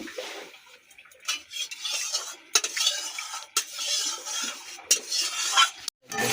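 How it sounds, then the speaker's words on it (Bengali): A water-soaked pressure cooker and pots are scrubbed and handled, producing irregular metallic clinks, scrapes and splashy rubbing with sharp knocks, close and alone. "কুকার পড়ে আছে, কুকার জলে ভিজিয়ে রেখেছি, মাজবো।"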